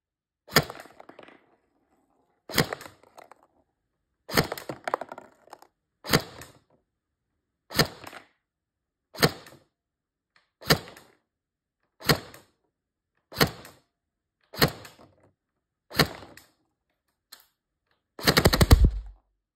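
A Tokyo Marui G3SG1 airsoft rifle with an EG700 motor fires single shots one at a time, each a sharp mechanical crack spaced a second or two apart, with a louder burst at the end.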